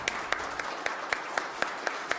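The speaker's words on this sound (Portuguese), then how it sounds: "que homenageássemos o nosso querido senador com uma salva de palmas" Applause for a senator at a Brazilian Senate public hearing, with roughly ten sharp, evenly spaced claps standing out over a steady wash of crowd clapping, moderately loud and close.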